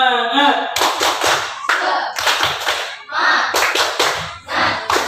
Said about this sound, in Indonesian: Nanti kita tepuk semangat dulu ya biar menambah semangat kita.